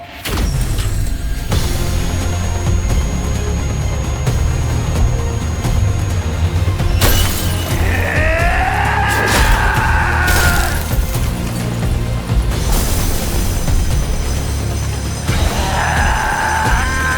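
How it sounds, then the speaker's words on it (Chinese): An animated mid-air disaster from the series To Be Hero X, in which an aircraft explodes and its fuselage tears apart, gives loud crashing bursts and tearing, rending roars over a constant heavy rumble, with shrill whining sweeps between the blasts. "刚才有爆炸和机身撕裂的巨响"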